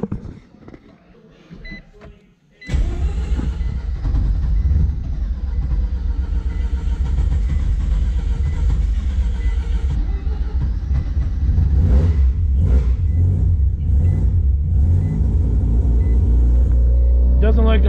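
Car engine catching after a few quiet seconds, then held at a steady, loud, rumbling rev for the rest of the clip, with someone talking over it near the end.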